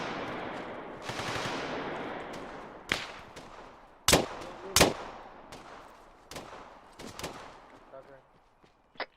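Gunfire in the Arma 3 military simulation during a section battle drill: several sharp, loud shots and short bursts ring out over a steady background rumble, with spaced cracks at uneven intervals.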